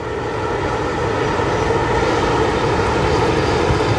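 An Etihad airliner climbs out of Chicago O'Hare on departure, giving a steady, loud broadband jet engine roar that holds constant throughout with no voices.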